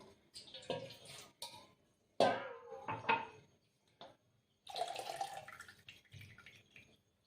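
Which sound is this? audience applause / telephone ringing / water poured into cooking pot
water poured into cooking pot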